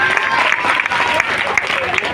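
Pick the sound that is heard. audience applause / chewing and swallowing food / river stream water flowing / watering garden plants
audience applause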